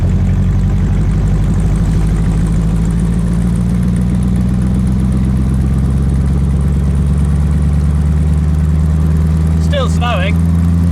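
V8-powered Cobra replica car with a Rover-derived 3.5 engine, driven in snowy weather, its engine droning loud and steady with rising pitch as it accelerates, heard from inside the car.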